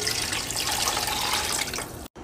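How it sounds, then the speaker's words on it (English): Beef stock poured into a cooking pot, a steady close splashing pour of liquid that tapers off near the end. "So I dumped the rest of my beef stock in here."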